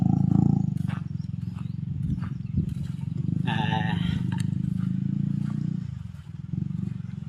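Motorcycles riding across a dry, waterless seabed, their engines droning low and steady throughout, with a brief higher rasp midway as one revs close by, and a voice talking over the engine noise.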